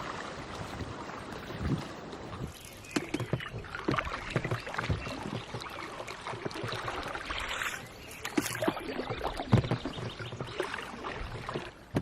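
MyCanoe Duo folding canoe gliding over glassy water: soft paddle splashes and dripping, hull knocks and gentle water swishes in an uneven rhythm, close and fairly quiet, with light wind noise.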